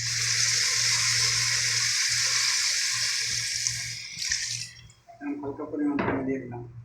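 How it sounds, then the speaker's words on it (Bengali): Water poured from a tap into a cooking pot with a steady, close rush that stops abruptly, followed by clattering pot sounds. "পানি দেওয়া হচ্ছে।"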